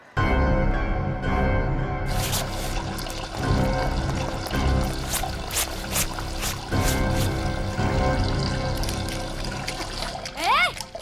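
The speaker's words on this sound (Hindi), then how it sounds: "दिख नहीं रहा है मैं कपड़े धो रही हूँ।" Water splashes and pours steadily while clothes are washed by hand, a continuous close trickling and sloshing with periodic stronger splashes and bursts of clatter, with people talking over it.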